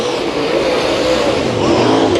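Race cars roar around a speedway during a heat race at Santa Maria Speedway, a loud continuous engine drone with rising and falling revs from several cars together.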